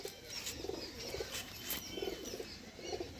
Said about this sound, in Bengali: পায়রা হাতেই কাঁপছে